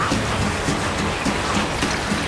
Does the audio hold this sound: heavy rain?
yes